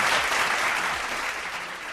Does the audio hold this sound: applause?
yes